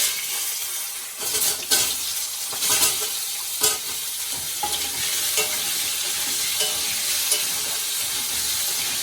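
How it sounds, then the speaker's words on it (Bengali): Potatoes fry in hot oil in a pan with radhuni seasoning, giving a dense steady sizzle with several scraping stirs near the start, close and unbroken by speech. "আলুটা একটু ভালো করে ভাজে"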